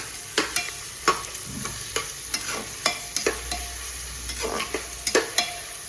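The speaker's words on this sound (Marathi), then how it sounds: "तर इथे आपला कांदा परततो आहे" Chopped onion sautés in hot oil for a smoked chicken sukka, with a soft steady sizzle beneath repeated sharp clacks of a spoon stirring against the pan roughly every half second to second.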